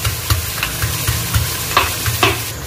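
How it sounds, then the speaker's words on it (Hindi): Onions fry in a pot for kabsa, a steady close sizzle broken by repeated scraping stirs of a spoon against the pot. "इसको अच्छा गोल्डन होने तक के भून लेंगी"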